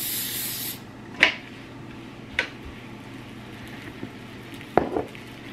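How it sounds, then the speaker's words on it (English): Coconut oil cooking spray sprayed onto a tortilla: one short hissing burst at the start, followed by quiet taps and scrapes. "spray the tortilla so I can cook."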